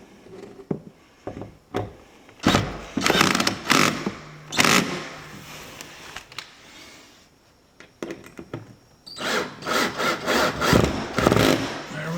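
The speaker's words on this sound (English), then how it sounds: "So what I have to do is drill 2 screws in it." A power drill drives two screws into the bottom seal of a Larson storm door, with short bursts of whirring and grinding separated by pauses, the second run longer and more sustained.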